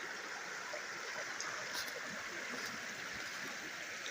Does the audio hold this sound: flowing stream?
yes